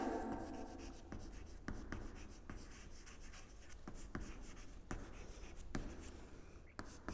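Pen writing math on paper, a close, soft continuous scratching with regular short strokes and taps, no talk.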